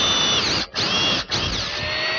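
Power drill with a slightly larger bit enlarging a hole in the post of a wooden Windsor chair, a steady high whine running loud and close with two brief pauses.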